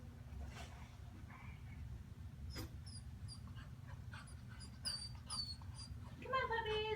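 Young puppies whimper and yip softly on a staircase, thin high cries repeating over a steady low background hum, rising into a cluster of louder whines near the end.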